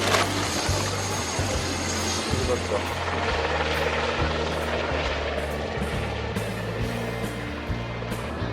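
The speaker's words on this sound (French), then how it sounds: "l'incroyable impression du survol en hélico, avec musique de Strauss, trous d'air et vibrations" A helicopter in flight, its rotor beating in a loud, steady rhythm alongside a continuous engine drone from inside the cabin, with voices and music faintly under it.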